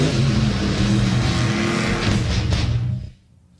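Monster trucks racing on a track, a loud continuous engine roar with revving that holds steady, then cuts off abruptly near the end, leaving near quiet.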